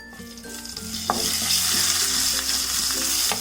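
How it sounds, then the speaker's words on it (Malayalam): Cinnamon, cloves and cardamom sizzle in hot ghee in a pan, a close, crackling fry with soft stirring scrapes and a brief clink, steady and moderately loud. "ഇതോടൊപ്പം തന്നെ ഞാൻ 1 ടീസ്പൂൺ നെയ്യും കൂടി ഇട്ട് കൊടുക്കുകയാണ്. ഇനി ഞാൻ ഇതിലേക്ക് 3-4 ചെറിയ പീസ് പട്ട, അതുപോലെ തന്നെ 3-4 ഗ്രാമ്പു, ഒരു 3 ഏലക്ക"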